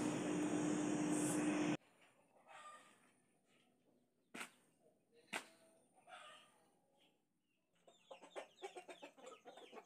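Ornamental Ekor Lidi chickens cluck in scattered, sharp calls at close range after a loud burst of noise at the start, with a busier flurry of clucks toward the end.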